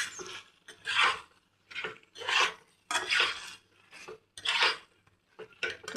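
Chicken being stirred in a pan for restaurant-style chilli chicken, a utensil scraping and rubbing against the metal in repeated bursts about once a second, fairly close and with no talk.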